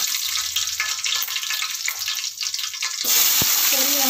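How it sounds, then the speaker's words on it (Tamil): Cinnamon and fennel seeds crackle and sizzle in hot oil in a pan for Tamil-style potato masala, a steady, close frying hiss that brightens toward the end, with no one talking. "ஆயில் நல்லா சூடாகிடுச்சு,"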